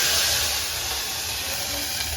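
Water poured into a hot tempering of mustard seeds, turmeric and chillies makes a loud, steady, hissing sizzle that fills the whole moment without fading.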